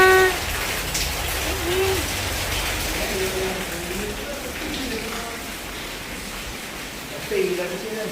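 Rain falls steadily as a constant broadband hiss of drops on surfaces, with a person talking over it at times.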